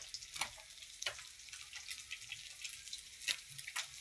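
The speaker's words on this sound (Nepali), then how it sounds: "उता माछा पनि फ्राई हुँदैछ।" Fish frying in a pan makes a soft, faint crackling sizzle with brief spits and pops scattered through it.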